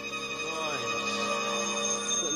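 A telephone rings in a radio drama, a bright continuous electric bell trill under a faint voice, moderately loud and sustained.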